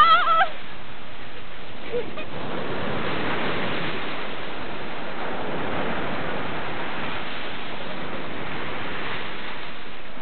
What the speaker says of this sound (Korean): 파도 봐.